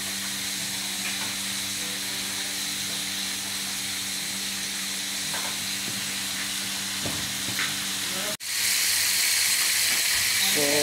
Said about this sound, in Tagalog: So sa ating pagprito guys, gumamit po tayo ng electric na lutuan para mabilis.